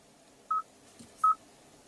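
Two short beeps from the dial pad of a 2016 Kia Sorento infotainment phone system, evenly spaced about three quarters of a second apart, clear and isolated against quiet cabin background.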